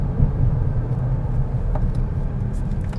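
A 2023 Chrysler Pacifica Pinnacle Hybrid's V6 engine runs while driving on rough San Diego roads, giving a steady low rumble with road noise heard from inside the cabin.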